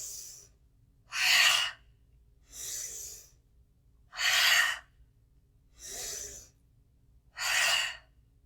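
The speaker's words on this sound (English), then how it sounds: "Fire breath. Inhale up." Yoga fire breath: six forceful, breathy bursts come close and loud in an even rhythm, about one and a half seconds apart, separated by near silence.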